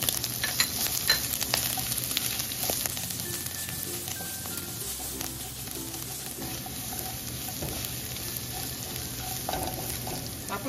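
Pork and garlic sauté in a pan for pancit miki, a continuous soft sizzle with occasional scraping stirs and light clinks, close and fairly quiet, no talking.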